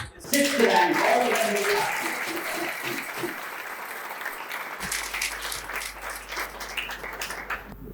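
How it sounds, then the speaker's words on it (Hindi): An audience at a coaching institute event warmly applauds to welcome a top-ranked civil services exam candidate, loud clapping bursting in at first with voices mixed in, then thinning and trailing off as the room settles. "इनको जोरदार तालियों से स्वागत।"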